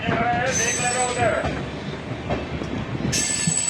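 A passenger train rolls into Srikakulam station on an inaugural special run between Palasa and Vizianagaram, with a steady loud rumble, a high wheel squeal rising at the start and again near the end, and faint voices underneath.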